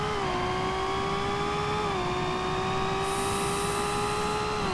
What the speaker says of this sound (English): Is this car too loud for you?